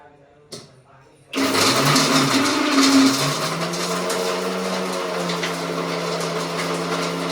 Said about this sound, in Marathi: आता मी ह्या भाजीसाठी असा सुकाच वाटणार आहे, म्हणजे विदाऊट पाणी